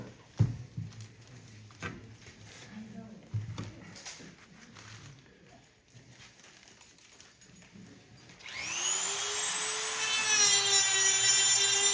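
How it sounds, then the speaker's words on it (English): A carbide burr on a rotary tool carves wood during a club carving demonstration, first scattered faint scraping and tapping, then a sustained loud whining grind as the burr spins up and cuts steadily. "So I'm just using a carbide burr in between to make it slightly concave."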